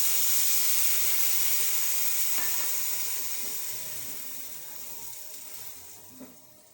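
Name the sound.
milk poured into roasted gram flour, hissing and steaming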